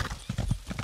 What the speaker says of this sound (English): So a horse will have its own stamina as well